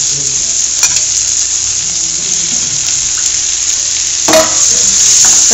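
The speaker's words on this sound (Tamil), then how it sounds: "தக்காளி சேர்த்து நல்லா சுருங்குற அளவு வதக்கிட்டு" Tomatoes frying with onions in a pan for Chettinad-style stuffed brinjal gravy, a loud steady sizzle with stirring scrapes and a brief burst of louder hissing near the end.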